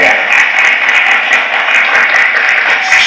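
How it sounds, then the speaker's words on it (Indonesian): An audience claps at an Islamic talk, a continuous loud wash of applause filling the whole stretch without pause. "Tepuk tangan dulu teman-teman kita Korea."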